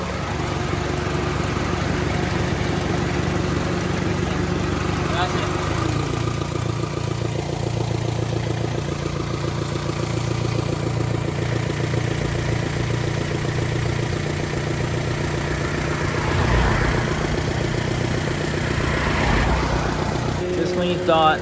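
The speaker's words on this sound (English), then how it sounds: "And I'll leave the car on some more." A Daihatsu Mira with turbo and manifold trouble idles steadily at close range, a low, even engine hum that holds the same pitch throughout with only slight shifts near the end.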